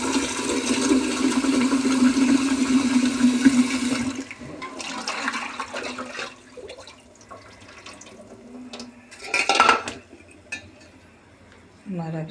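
Plates and dishes clinking and clattering in a home kitchen while breakfast is prepared, preceded by a few seconds of running tap water, with scattered sharp knocks and a voice speaking.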